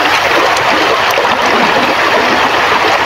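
River water flowing steadily as two people wash laundry and curtains at the riverside, a continuous close rushing and trickling wash with no voices.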